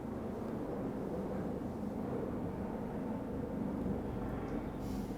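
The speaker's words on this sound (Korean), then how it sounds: "저 헬기 소리는 하나인데 우리가 동시에 듣고 있는 거야." A helicopter passes overhead during a gathering of about a hundred people, heard as a steady, low, rumbling drone that holds at an even level throughout, with no talking.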